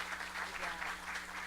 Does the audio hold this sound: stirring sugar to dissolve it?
no